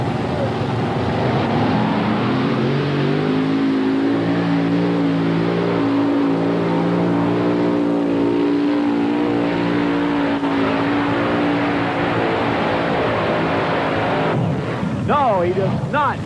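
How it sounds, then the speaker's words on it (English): Heavy modified tractor with a Rolling Thunder engine revving hard on a tractor pulling track in Bowling Green, Ohio, in 1991, a sustained loud roaring drone with a shifting pitch, and a commentator talking over it throughout. "John Powell from Apex, North Carolina, come to the starting line with a Rolling Thunder tractor."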